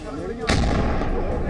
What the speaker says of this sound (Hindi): उसमें एक जोरदार धमाका होते दिख रहा है